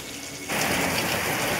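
Steady rain pours outside during cooking, a dense, even hiss that swells louder after a quieter opening and then holds constant with no voices.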